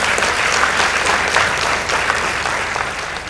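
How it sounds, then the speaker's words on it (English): An audience at a high school debate between Alidina Visram High School and Nyeri High School claps loudly after the judges' scores are read, a dense, sustained round of applause that tapers slightly at the end. "Let's give them a round of applause."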